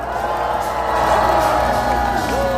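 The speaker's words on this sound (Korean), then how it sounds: "박수 한번 부탁드리겠습니다." A rally crowd outdoors cheers and shouts in a dense continuous roar, loud and close, with whoops rising over a steady hum.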